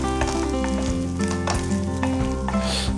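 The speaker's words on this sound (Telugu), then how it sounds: "ఇవన్నీ యాడ్ చేసి ఒకసారి స్టర్ ఫ్రై అంటే ఇవన్నీ లైట్గా వేగేంత వరకు" Cloves and whole spices stir-frying lightly in a pan for chicken satay, a loud continuous sizzle with repeated scraping stirs, alongside a steady humming tone from a nearby appliance or background music.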